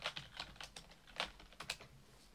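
Keystrokes on a PC keyboard tap out a short burst of entry, several distinct clicks in an uneven rhythm, close and fairly quiet with no talking.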